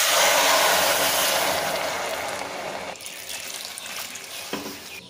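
Water poured into a pot of sambar with vegetables, a loud steady broadband rush of pouring liquid that gradually eases and thins out toward the end, with no talking.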